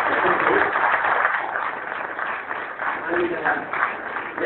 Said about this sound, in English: He deserves a very big round of applause.